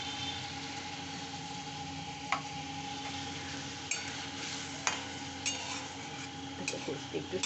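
Masala stirred and fried in oil for a katla fish curry gives a steady low sizzle throughout, with a few sharp clinks of a spoon against the pan while someone talks over it.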